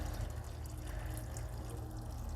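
Coolant water drains from a Peugeot 206 car radiator in a steady, faint trickling and gurgling flow with low background hum.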